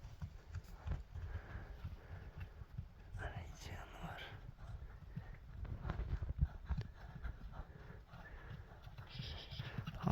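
A Kyrgyz horse raised in mountain pasture walks over rocky ground, its hooves clip-clopping in an uneven rhythm at close range, partly under quiet talk and breathing.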